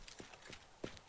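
Horse hooves clip-clopping in the video game Teardown, sounding as a few faint, separate thuds that land at an uneven pace.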